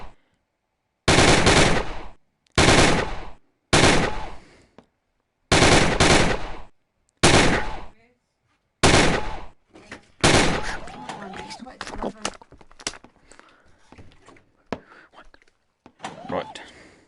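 Rapid automatic gunfire in the VR game Gun Club VR comes in about six sharp, loud bursts separated by short silences, followed by scattered clicks and handling noises with some voice.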